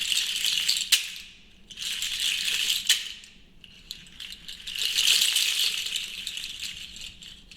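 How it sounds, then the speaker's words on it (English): A juju shaker, a seed pod rattle, is shaken in several bright rustling bursts with short pauses between them, played up close and alone. "It's also known as a seed pod shaker or a seed pod rattle."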